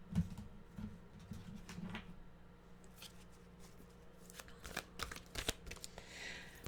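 Oracle cards from a Journey of Love deck being shuffled by hand, a soft, quiet run of riffling and sliding taps with brief louder flicks, heard close and alone without talk.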